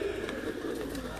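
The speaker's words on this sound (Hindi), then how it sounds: "ये टैडी नस्ल के ब्रीड का जो कबूतर है वो आपको दिखा रहे हैं" A Teddy breed pigeon, a Kasuri-Lahori type, coos softly on a rooftop in Sialkot, a low steady murmur lasting about a second with faint background noise.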